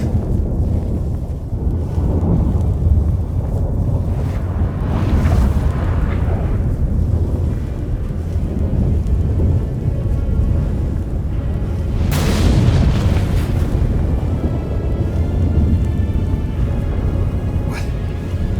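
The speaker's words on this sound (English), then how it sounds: "That a storm?" In the video game The Witcher 3, a storm blows with a heavy, continuous roar of wind and rain, swelling in surges, with deep rumbling booms of thunder, loud and enveloping throughout.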